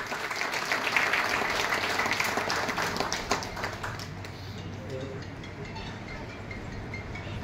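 An audience applauds to welcome an award recipient at an award ceremony. Dense clapping is strongest at first, then thins and fades to scattered claps, with faint background murmur.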